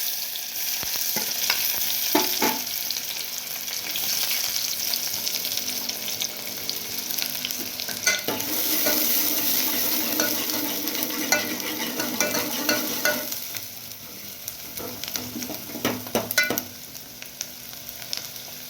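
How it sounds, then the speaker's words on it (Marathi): Onion fries in hot oil for mutton sukka, a steady close sizzle broken by repeated scraping and stirring strokes in the pan, with no voices. "तेल आपलं तापलेलं आहे आपण याच्यामध्ये कांदा टाकून घेऊ"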